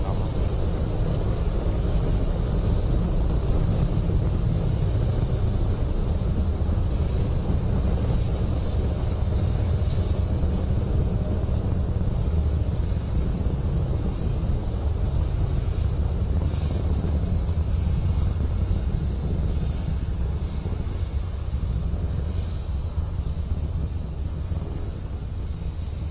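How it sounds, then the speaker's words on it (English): Falcon 9 rocket climbing away from Space Launch Complex 40 at Cape Canaveral, carrying the JCSAT-14 communications satellite: a continuous, heavy low roar with wind-like rumble that holds steady for the whole stretch, with a faint voice now and then. "We've launched from Space Launch Complex 40 at Cape Canaveral."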